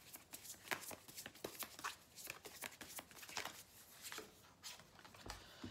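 Oracle cards shuffled by hand for a tarot reading, giving a steady run of soft, rapid riffling and slapping card sounds up close. No voices.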